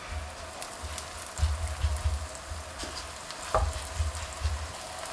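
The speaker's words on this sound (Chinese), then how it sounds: "油热以后，放入饼皮" Rolled flatbread dough sizzles in a preheated, oiled flat pan or electric griddle, with a steady soft frying hiss and a few louder crackling bursts as it is shifted.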